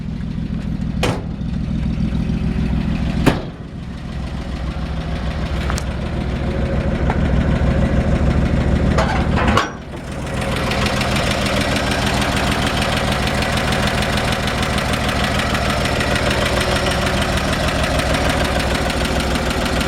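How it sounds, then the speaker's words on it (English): A 1957 Chevrolet 3100 truck's original 235 engine idles steadily with a deep, low rumble and faint knocking, broken by a few sharp clunks, then rougher and louder after a brief dip. "I'm going to shut the engine off and then be able to hear me talk better."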